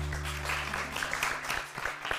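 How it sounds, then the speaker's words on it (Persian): A studio audience claps steadily for a departing player on a Persian mafia game show, a brief patter of many hands over a low steady hum, fairly close and unbroken by talk. "تشویقش میکنید."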